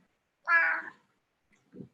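A cat lets out one clear, fairly close meow, followed a moment later by a faint short murmur, with quiet all around.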